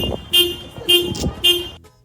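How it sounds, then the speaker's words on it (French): A car horn blares in three short, evenly spaced honks, loud and close, pressed by a dog sitting at the steering wheel, with engine rumble between blasts. "c'est des klaxons"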